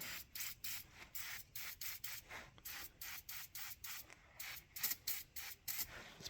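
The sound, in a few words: aerosol spray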